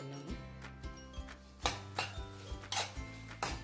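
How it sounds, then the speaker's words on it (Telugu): Spoon scraping and knocking in a pan while ground powder is stirred into a laddoo mixture, irregular clinks and taps close by, with no talk. "ఇప్పుడు గ్రైండ్ చేసుకున్న పౌడర్ని ఇందులో వేసి తిప్పుకుందాము."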